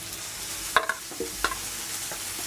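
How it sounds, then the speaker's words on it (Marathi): Finely chopped onion fries in a pan over medium heat with a soft background sizzle, punctuated by a few light clinks and scrapes of stirring. "बारीक चिरलेला कांदा घालतो गॅस थोडा मीडियम ठेवायचा आणि कांदा छान असा लाल करून घेऊया"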